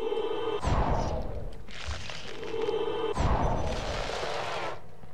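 The Incendio fire spell cast in a Harry Potter video game: two whooshing, booming bursts of flame about two and a half seconds apart over a steady game background, no voice.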